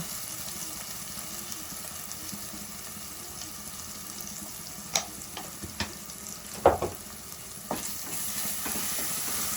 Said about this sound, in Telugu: అల్లం వెల్లుల్లి పేస్ట్ వేసుకొని కొద్దిగా గోలనివ్వాలి.